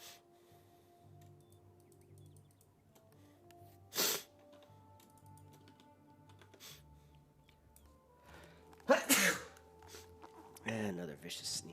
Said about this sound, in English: And another vicious sneeze.